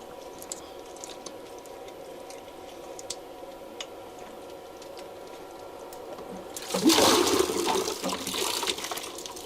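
Water gushes suddenly out of an opened plumbing pipe section into a bucket during a check valve replacement, a loud rushing splash after several seconds of quiet ticks and faint drips.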